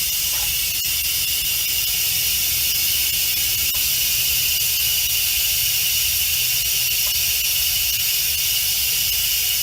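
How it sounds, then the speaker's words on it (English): An Instant Pot vents its pressure in a loud, continuous high hiss of escaping steam, close by and steady, with nothing else over it. "get all our pressure out so that it's safe for me to open my Instant Pot"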